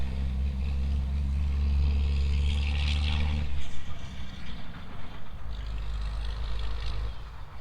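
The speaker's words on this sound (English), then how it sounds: "And a truck going by out there." A heavy truck rumbles past outdoors in Chilean Patagonia, its low engine drone loud for the first few seconds before fading into fluctuating road and wind noise.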